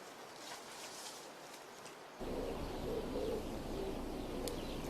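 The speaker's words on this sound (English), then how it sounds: "The birds of these valleys are many in number, and also some of the most beautiful and soundful in the world" Birds call in a forested river valley in Tibet, soft cooing and a few faint chirps set against a steady wash of rushing water and breeze.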